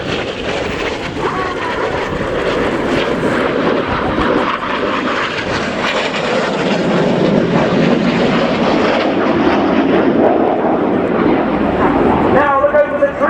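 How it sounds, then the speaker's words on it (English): Red Arrows jet aircraft roar low over the air show at RIAT Fairford, a loud, continuous engine noise that swells as the jets pass close, with a commentator talking over it. "Each pilot now flying their aircraft at around 400 miles per hour."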